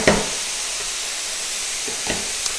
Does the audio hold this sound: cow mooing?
no